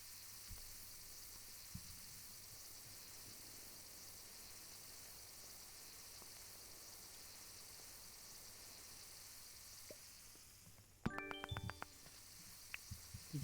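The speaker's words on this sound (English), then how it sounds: "You can really hear the sizzling." Meat sizzling as it cooks in the video game Dinkum: a steady, even hiss runs for about eleven seconds, then gives way to a few sharp clicks and short game tones near the end.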